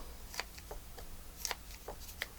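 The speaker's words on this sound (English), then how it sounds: "Oh, these scissors do not work." Faint, quiet snips from small scissors cutting craft scrap and string, several sharp clicks spaced irregularly over a hushed background, with no talk.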